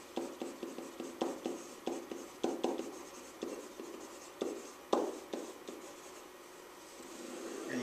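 A marker or pen sketches a graph on a board in a series of short, scratchy strokes, close and fairly distinct, with brief gaps between strokes and no talking.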